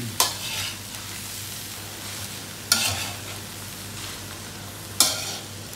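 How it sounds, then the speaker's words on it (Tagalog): Fried rice stirred in a hot pan, three distinct scraping stirs spaced a few seconds apart over a steady low sizzle, close and without talking. "Mix lang po natin siyang maigi."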